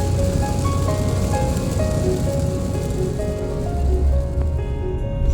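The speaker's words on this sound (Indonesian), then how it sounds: "saat ini di sini hujan lumayan deras" Heavy rain drumming on a Toyota Rocky during a long road trip, a dense continuous patter inside the car with faint tonal sounds over it.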